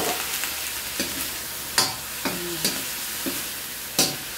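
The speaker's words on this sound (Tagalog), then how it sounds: "Lagay na po natin itong hipon na sahog." Shrimp go into a hot pan with cooked garlic, onion and ginger, sizzling steadily while a utensil stirs and scrapes with a few sharp clinks against the pan, no talking.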